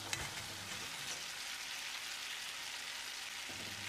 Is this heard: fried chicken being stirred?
yes